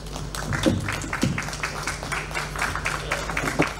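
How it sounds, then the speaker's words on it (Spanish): An audience at a commemoration of fifty years since Chile's civil-military coup breaks into steady, dense applause, a continuous patter of many hands clapping at moderate loudness, with a faint voice underneath. "Un fuerte aplauso"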